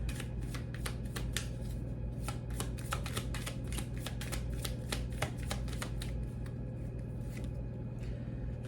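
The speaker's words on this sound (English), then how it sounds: "Let's get some more tarot cards out here to get more insight." Tarot cards are shuffled close by in a rapid run of crisp riffling clicks and slaps over a steady low background hum, with no talk.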